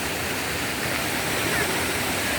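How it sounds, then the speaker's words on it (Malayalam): Water rushing steadily below Soochipara waterfall in Wayanad, a loud, unbroken broadband roar of flowing water that fills the whole stretch with no pauses and no voices. "വെള്ളം ഇങ്ങനെ പതിയെ വെള്ളച്ചാട്ടത്തിൻ്റെ താഴെ നിന്നും ഇങ്ങനെ വെള്ളം പതിയെ ഒഴുകി താഴോട്ട്"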